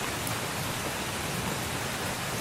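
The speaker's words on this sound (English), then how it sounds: "Gee, it's pouring." Heavy rain pouring down steadily as a dense, even hiss, continuous and fairly loud with no voices over it.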